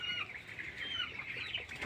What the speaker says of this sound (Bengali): ব্রয়লার মুরগির ফার্ম